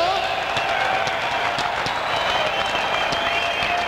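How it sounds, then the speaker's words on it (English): Loud, dense applause from a large crowd at a 1994 Toughman boxing championship in Cobo Arena, Detroit, fills the clip continuously, with cheering and music blended into the noise. "give them both a big round of applause"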